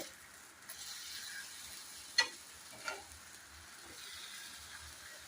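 Mini uttapam sizzling softly in oil on a pan over a low gas flame just after being flipped, a steady faint fry hiss with two brief clicks of the spatula against the pan.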